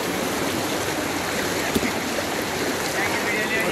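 Floodwater after heavy rain in Hyderabad rushes in a steady, loud broadband wash with no break, like a fast stream, with faint voices in the background.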